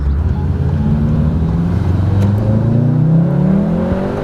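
Volkswagen Golf R engine with a resonator-deleted exhaust revving up through rising RPMs, a loud, steady, close drone climbing in pitch.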